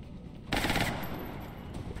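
A shot fired in the turn-based strategy game XCOM Long War, a sudden burst of dense gunfire noise that stays loud for about half a second, then trails into a lingering rumbling tail.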